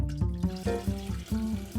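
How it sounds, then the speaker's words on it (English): Cold tap water runs into a kettle with a rapid, bubbling, gurgling flow that shifts in pitch as it fills, close and steady, no voices. "Fill your kettle with freshly drawn, filtered cold water."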